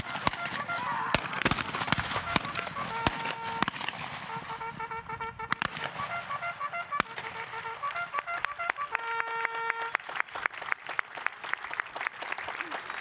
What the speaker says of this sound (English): B Troop, 4th U.S. Cavalry Regiment Memorial, wrapped up the ceremony with their signature pistol charge across the